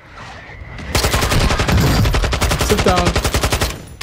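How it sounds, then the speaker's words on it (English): Sustained automatic gunfire from the video game Warzone, likely a Tempus Razorback rifle in the Vondel map, hammering in a rapid rhythmic burst for about three seconds, loud and close, with a brief spoken phrase near the start. "Who's shooting at me, bro?"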